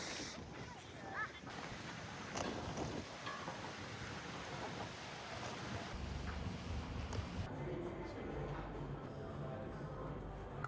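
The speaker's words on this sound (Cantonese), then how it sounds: "今日係好大風嘅二世古。" Strong wind blowing outdoors in Niseko, Hokkaido, a rough continuous rushing roar buffeting the microphone, with a voice speaking over it.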